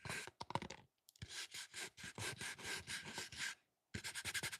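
A gritty grip surface is rubbed back and forth close up in bursts of scratchy, sandpaper-like friction, separated by short silent pauses with no talking.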